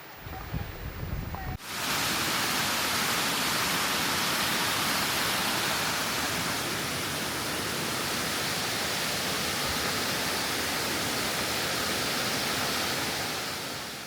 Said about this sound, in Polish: Łapski wodospad.